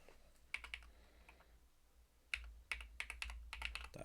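An email address typed on a computer keyboard, faint irregular clusters of clicky keystrokes in two bursts separated by a short pause, with no talking.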